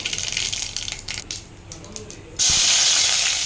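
Mustard and cumin seeds hit hot oil in a pan and burst into a loud, steady sizzling hiss after a second or two of quieter clattering and pops, close up.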